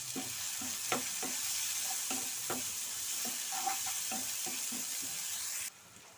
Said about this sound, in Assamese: এনেকৈ পিঁয়াজখিনি অকণমান সময় ভাজি